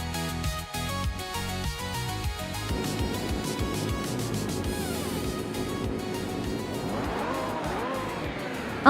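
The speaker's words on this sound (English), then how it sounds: "the race has kicked off at the Circuit Assen Retro track, and leading the pack is the Scuderia Veloce team, with their classic 1989 Ferrari F40 competition" Racing video game cars roar off the line at the Circuit Assen Retro track, a classic 1989 Ferrari F40 competition car leading, with loud continuous engine drone, rising revs and tire squeal over game music.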